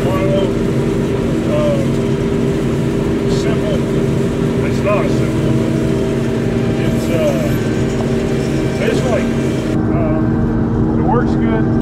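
A combine harvester fitted with a header cuts milo with a steady, loud, droning engine hum and a constant mechanical whir. Someone talks throughout over the machine noise.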